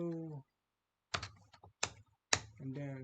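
A few quick, sharp clicks of typing on a computer keyboard, clustered between stretches of someone talking, close and fairly quiet.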